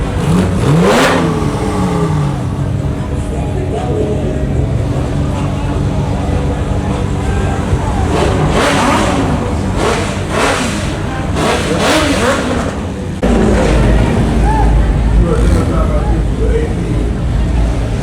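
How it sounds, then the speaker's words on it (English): Loud car engines rev over and over in a dense, continuous roar at a Halloween car meet, with several vehicles throttling up at once and voices shouting faintly underneath. "everyone is revving"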